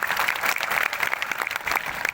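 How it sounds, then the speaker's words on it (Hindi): Audience applause at a Birsa Munda Jayanti gathering, a dense burst of many hands clapping steadily for a couple of seconds, fairly close and loud with no talk over it. "उनके लिए एक बार जोर से और दिल से ताली बजा दीजिए।"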